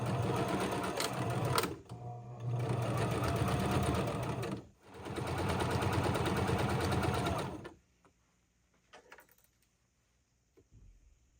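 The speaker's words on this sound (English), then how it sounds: "Now I'm going to sew the fringe along the bottom of the sleeves." A sewing machine stitches fringe onto the bottom of sleeves in two loud, steady close runs separated by a brief pause, then falls quiet with only faint clicks of fabric handling.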